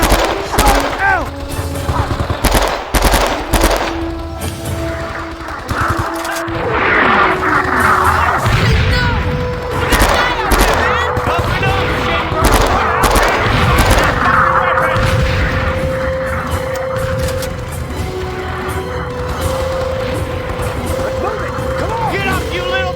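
Heavy gunfire and mortar fire in the Men of Valor video game: dense, loud bursts of rifle and machine-gun fire with booming impacts rolling on continuously, while soldiers shout over the battle.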